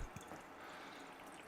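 Filtered water poured onto indoor microgreen trays, a soft continuous splashing and trickling with a couple of faint drips, close and fairly quiet, no speech.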